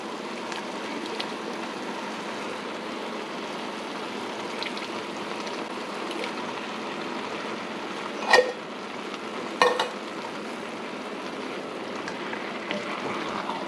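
Black beans and chili beans being stirred into a pot of ground venison chili make a steady soft sizzle with wet stirring, punctuated by a couple of sharp clinks of the spoon against the pot.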